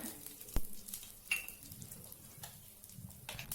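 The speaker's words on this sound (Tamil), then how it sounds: "எண்ணெய் ஊற்றி கடுகு போட்டிருக்கேன், அதிலே பெருங்காயம் போட்டிருக்கேன்" Mustard seeds and asafoetida sizzle in a small amount of hot oil for mango-ginger thokku pickle, a faint steady crackle broken by a few sharp, isolated pops.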